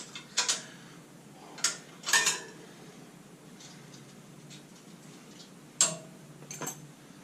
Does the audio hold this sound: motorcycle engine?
no